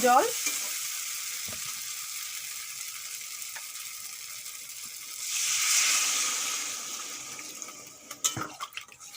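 Fried soybean chunks and papaya being sautéed together in a pan, a soft sizzle with occasional stirring scrapes, swelling into a louder hiss midway before clattering utensil knocks at the end.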